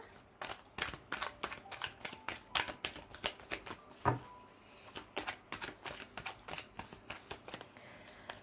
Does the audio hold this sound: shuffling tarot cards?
yes